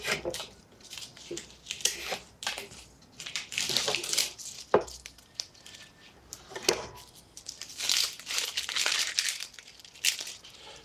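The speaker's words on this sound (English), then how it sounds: "I use a razor blade typically. It tends to come up easier, and you can kind of just almost like shave it and it'll peel right off." A razor blade shaves and peels a layer off a handmade wrestling trophy, giving close crinkly scraping and tearing bursts with brief sharp clicks and quiet pauses between strokes.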